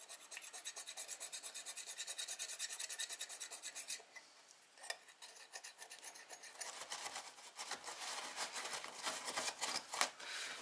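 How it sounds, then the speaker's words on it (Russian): Rasping cut as uneven edges are trimmed flush around the opening for a built-in Hansgrohe concealed mixer, a steady scraping that runs without talk, pauses near four seconds, then resumes denser and louder toward the end. "все эти неровности, мы начинаем подрезать так, чтобы у нас все было ровно под лицо"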